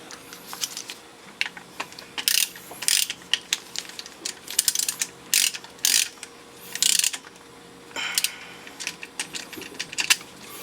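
A ratchet tightens an alternator bolt on a Yanmar 2GM20 sailboat engine, giving rapid bursts of clicking in short strokes with brief pauses between, close and crisp.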